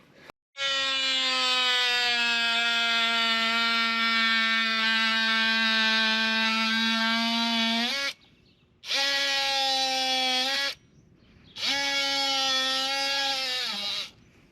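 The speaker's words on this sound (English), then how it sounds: "we're going to trim these down a bit with the DeWalt oscillating tool" A DeWalt oscillating tool cuts through apple tree branches on a Macintosh being pruned. It runs as a loud, steady, high buzzing whine for about eight seconds, then in two shorter bursts separated by brief pauses, with the pitch sagging slightly as it bites into the wood.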